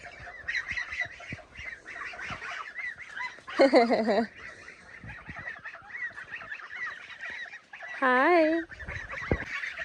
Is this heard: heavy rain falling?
no